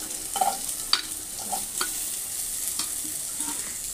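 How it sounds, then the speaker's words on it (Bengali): Pieces of taro fry in hot oil in a pan with cumin seeds, dried red chilli and bay leaf, giving a steady close sizzle with scattered scraping clicks of a spatula stirring them. "এবার আমি কচুটা তুলে দেবো"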